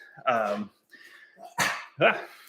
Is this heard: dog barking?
yes